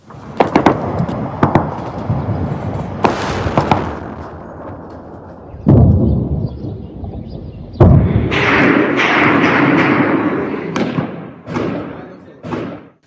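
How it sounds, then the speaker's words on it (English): Heavy booms and thuds of tank fire mixed with sharp cracks of gunshots in Khartoum, loud and irregular, some blasts echoing in the distance. "Sounds of tank fire and loud shooting filled the air in Khartoum."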